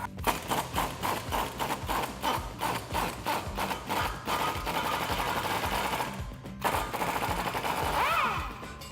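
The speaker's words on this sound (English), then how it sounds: "So grab your socket and try to gun this off." An impact gun with a socket spins a bolt off the suspension of a 2012-2019 Dodge Challenger, a rapid hammering rattle running in close, continuous bursts with no voices.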